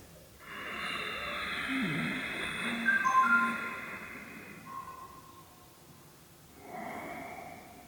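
Ujjayi pranayama breath drawn in through the nostrils, a soft hissing, slightly throaty inhale lasting several seconds, then a brief pause and a second shorter breath, close and quiet with no talking.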